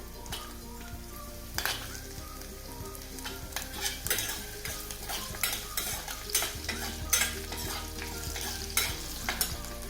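Carrot, potato, beans and capsicum fry and get stirred in a cooking pan, giving a steady sizzle with repeated spatula scrapes and clinks at an irregular rhythm, close and fairly loud.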